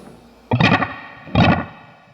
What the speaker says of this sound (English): That's sort of a reverb-like sound. Very few repeats, very glassy sounding.